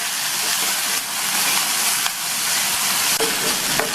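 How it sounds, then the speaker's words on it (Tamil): Chopped tomato and onion sautéing in hot oil for a greens dish, a loud continuous broadband sizzle and hiss up close, with a few faint stirring clicks and no voices. "இந்த தக்காளியையும் 2 நிமிஷத்துக்கு வதக்கிக்கணும்"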